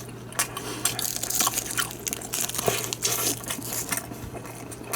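Crisp crunching bites into a rice cake snack layered with seaweed, melted sliced cheese and ham, with repeated crackly chews close up and no talk.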